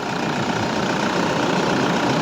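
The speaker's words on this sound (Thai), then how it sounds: "เสียงเครื่องยนต์ดังนิ่มมากนะครับบอกได้เลย" A 2012 Toyota Vigo Champ pickup truck engine idles steadily and close by, a continuous low rumble with no talking.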